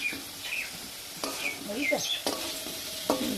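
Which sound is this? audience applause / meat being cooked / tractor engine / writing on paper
meat being cooked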